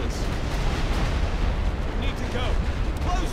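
Artillery fire rumbles through a Great War Western Front battle game, a dense continuous roar of distant blasts and bursts, with someone talking over it.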